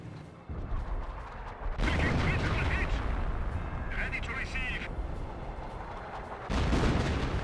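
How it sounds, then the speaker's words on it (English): Artillery barrage in the WWII strategy game Company of Heroes, a sustained rumble of booming shell impacts and gunfire with heavier blasts near the start and end, with a voice talking faintly underneath. "Artillery barrage there gives a direct hit."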